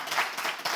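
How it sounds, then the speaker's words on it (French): A studio audience claps briefly for a game show contestant, a short burst of fairly faint, dense applause with no voices over it. "On l'applaudit, s'il vous plaît."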